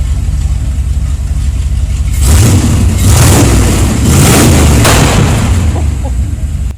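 A Ford AU XR8 V8 swapped into an XD Falcon rumbles at idle, then barks through several hard revs, loud and raw with the exhaust open straight out of the headers.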